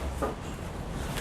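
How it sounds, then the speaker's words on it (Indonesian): Steady broadband typhoon wind rushing outdoors, a continuous moderate whoosh with slight gusting swells and no talking. "Ini suara angin teman-teman."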